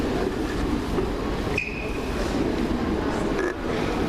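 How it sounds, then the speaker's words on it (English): Balloch-bound train pulling into a Glasgow station, a steady loud rumble of rail running throughout with brief squeals and a short lull partway, no speech. "Here comes the Balloch train."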